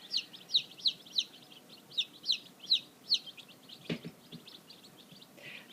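Newly arrived Black Copper Marans chicks give high, repeated peeping chirps in a steady rhythm, fairly faint, followed by a dull knock and quieter rustling.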